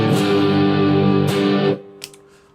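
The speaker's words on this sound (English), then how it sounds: "that's kind of as warm as you could expect a bridge pickup of a Telecaster to sound" Electric guitar on a Telecaster's bridge pickup through a distortion pedal, a thick sustained distorted chord ringing loud, re-struck once, then cut off abruptly into brief quiet handling noise.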